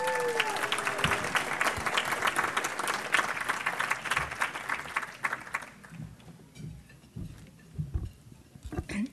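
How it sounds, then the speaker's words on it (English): Banquet audience at a CAIR-NJ community dinner bursts into sustained applause welcoming a young speaker, dense clapping that stays loud for several seconds before thinning into scattered claps and murmurs. "Please give Zainab Anwar a round of applause"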